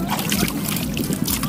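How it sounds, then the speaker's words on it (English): Water splashes and sloshes close by in short bursts at Hot Water Beach, New Zealand, with faint voices mixed in. "Oh, don't splash me, Hallie."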